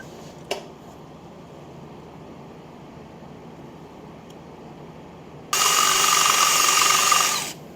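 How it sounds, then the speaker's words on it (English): A power drill bores out pop rivets on the exhaust of a 1978 Kawasaki KL250, starting abruptly after a quiet stretch and a brief knock, then running as a steady, loud, high whir for about two seconds. "I'm gonna have to drill out all these pop rivets"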